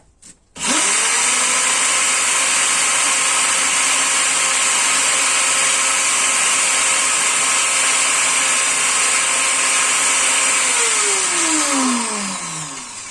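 A power tool runs at 1000 to polish the inside of an engine intake or exhaust valve. It spins up abruptly into a loud, steady high whine that holds for about ten seconds, then winds down with a falling pitch.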